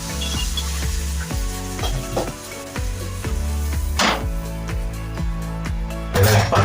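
Jaggery melting into syrup in a hot pot for fried bengal gram laddu, a steady sizzle broken by repeated knocks and scrapes of a stirring spoon, with a louder splashy burst near the end.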